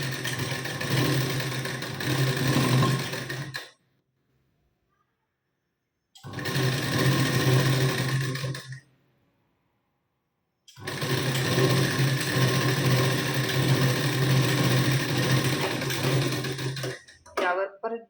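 A sewing machine runs a double line of stitching along a katori blouse seam, loud and near in three long continuous bursts separated by near-silent pauses.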